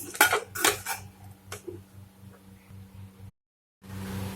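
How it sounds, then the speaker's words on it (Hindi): Metal pressure cooker lid being handled and opened in a home kitchen after cooking dal, close clinks and clatters of metal against metal followed by quieter scraping, heard without talking. "देखिए कुकर ठंडा हो गया है। अब हम इसे खोल लेते हैं।"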